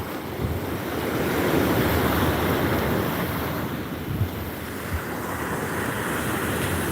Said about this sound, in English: Listen to these waves coming in.